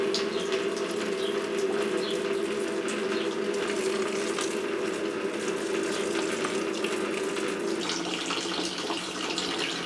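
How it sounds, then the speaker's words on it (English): Steady liquid pouring and trickling, a continuous close splashing flow of beer wort poured over a grain bed during home brewing, without pause, no voices. "The collected wort, I'm just going to pour slowly over the grain bed."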